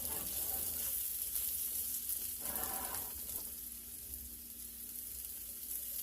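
Potatoes frying in a pan on the stove, a steady broadband sizzle with a brief stirring or water-like burst in the middle, continuous and fairly close with no talking.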